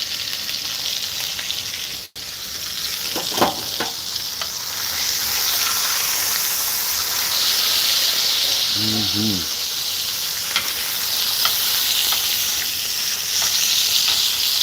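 Steak sizzling in butter in a pan, a loud, continuous hissing sizzle close by, with brief speech and a few clatters of utensils over the frying.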